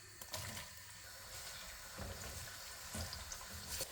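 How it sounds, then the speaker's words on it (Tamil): Onions fry for chicken biryani, giving a faint continuous sizzle with a few soft clicks and scrapes of stirring and no talking over it. "இப்போ இதுக்குள்ள நாங்கள் வெங்காயத்தை போடுறோம்."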